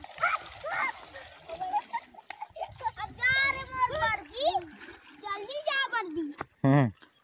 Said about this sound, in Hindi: इधर बच्चे लोग देख सकते हो पानी के किनारे क्या ही मस्ती कर रहे हैं